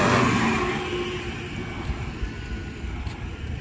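A loud bus passes close by on a street, its broad roaring rumble strongest at first and then easing off slightly as it continues.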